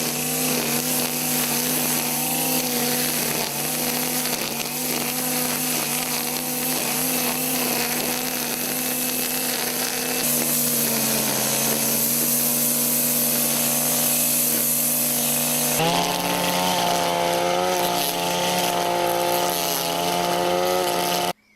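A Honda BC35 brush cutter with a GX35 engine and string trimmer head runs steadily at high revs, a loud, continuous buzzing drone close by with a slight pitch shift partway through, no voices.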